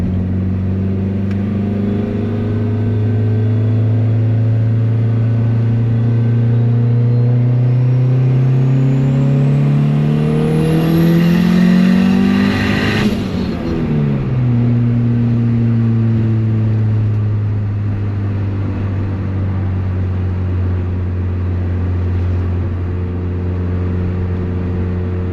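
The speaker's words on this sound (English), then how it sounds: "So I just did a full third gear rip, and this thing looked extremely close, and it was absolutely flying." A turbocharged Honda Civic running over 25 psi of boost pulls hard through third gear, its engine note rising steadily to a loud peak before dropping back to a steady drone, heard from inside the car.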